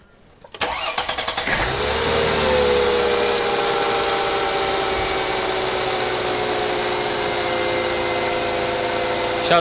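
A cold Mercedes W211 engine cranks briefly, catches with a burst, then settles into a steady, even idle that continues close by.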